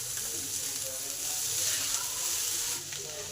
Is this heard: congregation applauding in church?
no